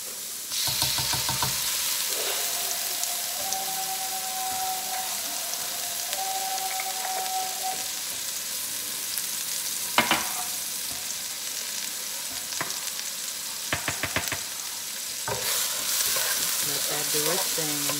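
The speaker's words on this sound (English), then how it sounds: "And we're gonna add our onion. We're going to add some minced garlic." Onion and minced garlic frying for chicken fried rice, a steady, close, hissing sizzle with occasional clatters of stirring and faint tonal hums from the kitchen throughout.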